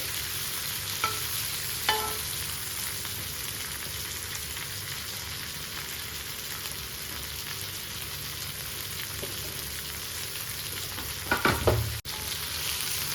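Fish fries in hot oil with a steady, even sizzle, moderately loud and continuous, with a couple of brief clinks from a utensil near the end.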